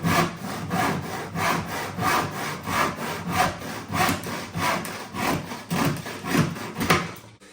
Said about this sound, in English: Just gently start the cut off, 2 or 3 straight backward cuts, and then we can just gently making sure we cut through the line.